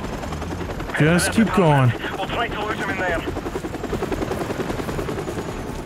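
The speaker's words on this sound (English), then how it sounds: "More helicopters, more reinforcements." Helicopters drone through a Modern Warfare Remastered firefight, a steady rotor roar mixed with gunfire, while a player speaks briefly near the start.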